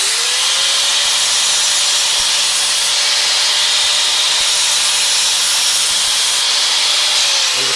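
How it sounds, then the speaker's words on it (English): An angle grinder with a cutoff wheel sharpens a step drill bit, a loud steady high whine held for several seconds at close range, with bright hissing grit throughout and the pitch sagging as it winds down at the end. "grab your angle grinder, use a 16-inch cutoff wheel"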